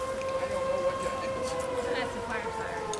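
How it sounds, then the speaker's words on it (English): A fire siren wails steadily in the distance at a county fair in Carrollton, Ohio, a sustained tone holding under a commentator's talk. "That's the fire siren."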